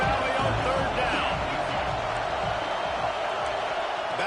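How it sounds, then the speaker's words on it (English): Big football crowd at Happy Valley during a Penn State versus Alabama game roars on third down, a steady, distant-sounding wash of stadium noise beneath a commentator's voice. "Here comes the noise from this big crowd in Happy Valley on 3rd down."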